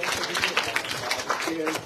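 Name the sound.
church congregation applause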